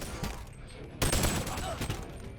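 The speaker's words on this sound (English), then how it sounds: "You're firing at your own guy?" Gunfire in the video game Boneworks, bursts of rapid shots with a loud fusillade starting midway, close and sharp, with a voice briefly heard.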